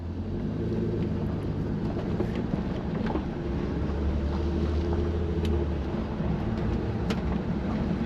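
Cabin of an MK4 VW Golf R32 with a DSG conversion, heard on a test drive over a few bumps. A steady, loud low road and engine rumble continues throughout, with faint occasional thumps.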